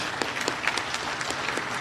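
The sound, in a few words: applause for the kids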